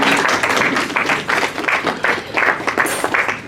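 A crowd at a university football league awards ceremony applauds the sports tutors, dense continuous clapping with lively uneven surges, close and fairly loud throughout.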